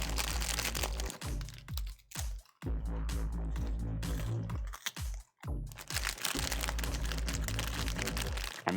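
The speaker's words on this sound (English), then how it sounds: "This is the sound of me eating rice cakes in the background." Crunchy bites and chewing of rice cakes close to the microphone, with bursts of crackly crunching separated by short pauses, set over a steady background of music or hum.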